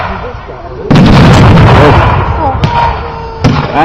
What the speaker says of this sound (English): the German mortar troops are firing from the left-hand side of the field there